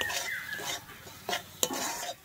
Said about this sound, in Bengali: আমি কাশ্মীরি লঙ্কার গুঁড়োটার হলুদটা দিয়ে একটু ভালোভাবে আবারও কষিয়ে নিচ্ছি।